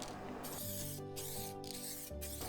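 Spray gun hissing while painting a Volkswagen Caddy van with light dust coats: steady broadband bursts of spray broken by brief pauses between passes, close and fairly loud.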